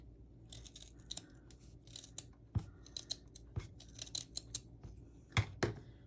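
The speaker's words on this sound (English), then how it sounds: "you want to kind of give your tassel a haircut" Scissors snip through a yarn tassel being trimmed for a farmhouse wooden bead garland, making a series of irregular crisp cuts and small rustles, close and quiet, with no voices.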